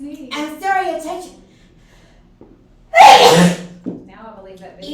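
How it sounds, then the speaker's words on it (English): One sharp, loud sneeze bursts out midway, with a quick intake of breath before it, while people talk before and after. "That's a sneeze."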